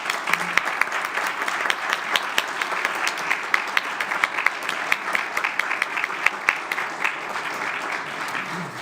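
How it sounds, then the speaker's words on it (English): An audience at a school district board meeting applauds teachers with a warm, steady round of clapping. Sharp individual claps stand out over the dense wash of hands for the whole stretch, set in a large room. "Let's give them a warm round of applause."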